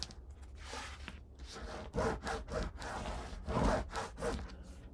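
A bone folder rubs along a paper edge while a spooky mini album is assembled, giving soft, dry scraping strokes in uneven bursts, louder toward the end, with no talking.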